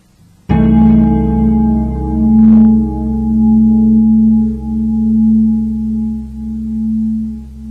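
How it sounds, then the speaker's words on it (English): A dominant-type piano chord carrying a sharp 9 and sharp 5, struck once after a brief quiet moment and held ringing at full strength, fading gradually over several seconds, heard alone. "we're going to go ahead and play now the sharp 9 with the sharp 5"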